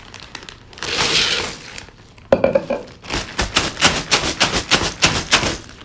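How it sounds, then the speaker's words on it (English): Ice cubes are poured into a big plastic bag: loud crinkling plastic, then a rapid run of hard clattering knocks as the cubes tumble in close by. No one speaks. "You'll put your ice in there."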